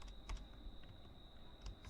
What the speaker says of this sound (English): So let us type Calibri for the fields